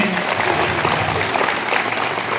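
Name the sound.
applause welcoming a guest at a gathering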